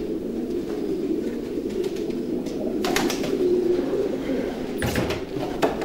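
Racing pigeons cooing in a stud loft, a steady low murmur of overlapping coos close by with a few brief flutters and knocks over the top.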